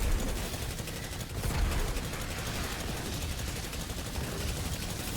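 Rapid gunfire from a video game weapon in an Actium War Rig build, a dense continuous burst of automatic shots sustained at moderate level with no pauses.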